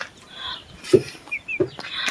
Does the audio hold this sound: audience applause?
no